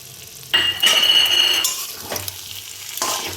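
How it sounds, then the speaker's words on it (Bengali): Cumin paste hits frying taro in a pan with onion, ginger and chili, setting off a loud sizzle and spatula stirring scrapes, with a couple of brief metallic clinks after. "এবার আমি বাটা জিরেটা দিয়ে দিচ্ছি।"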